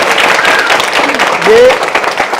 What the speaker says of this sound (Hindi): सिर्फ इनके सम्मान में जोरदार तालियां बजाई